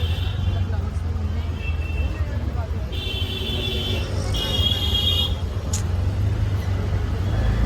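Road traffic beside a morning vegetable market in Thane: a steady motor rumble with a few short horn-like beeps, heard under people talking.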